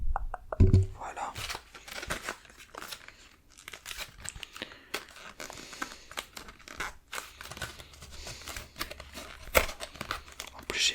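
A Pokémon tripack wrapper is handled and torn open by hand, giving close, soft plastic crinkling and rustling in bursts, with quiet French speech nearby.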